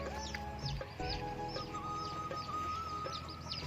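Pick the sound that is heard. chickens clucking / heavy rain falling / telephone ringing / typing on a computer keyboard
chickens clucking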